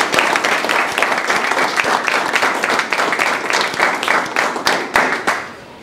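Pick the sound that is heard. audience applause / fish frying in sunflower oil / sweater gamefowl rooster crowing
audience applause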